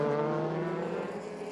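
A 2004 DTM touring race car driven by Tom Kristensen pulls away, its engine holding a steady, harmonically rich drone that eases off slightly as the car moves on.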